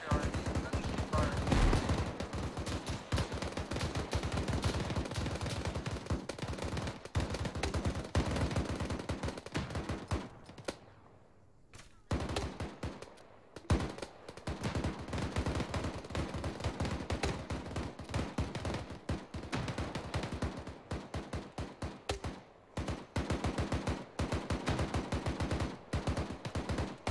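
Video game patrol firefight: rapid automatic gunfire in dense bursts with scattered single shots, loud and nearly continuous, pausing briefly midway, under occasional radio-style voices.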